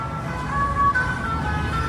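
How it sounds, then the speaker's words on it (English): A musical propane-selling truck plays its jingle in a street in Cuenca, Ecuador, a steady tonal melody heard at moderate distance over continuous traffic and street ambience. "musical propane selling trucks"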